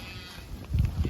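Low moos from a cattle herd grazing a pond dam rise briefly over a quiet outdoor background, a couple of deep calls close together near the end.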